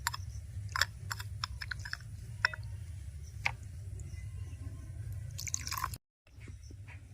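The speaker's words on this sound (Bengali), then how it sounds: "ঠান্ডা জল দিয়ে ভালো করে ছানাগুলো ধুয়ে নিতে হবে" Chhana (cottage cheese) being rinsed by hand in cold water while making ripe mango rasgulla: intermittent small splashes and drips, close by, over a steady low background hum, with no talking.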